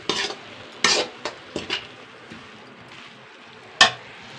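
Tomato with salt, a little turmeric and chilli powder stirred in a pan, with a few sharp scrapes and clatters of a utensil against the pan over a faint low sizzle.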